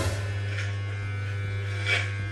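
Electric hair clippers cutting hair at home, giving a steady, close, low buzzing drone that holds throughout with slight shifts as the blades move.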